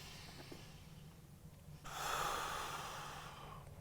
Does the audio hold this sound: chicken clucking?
no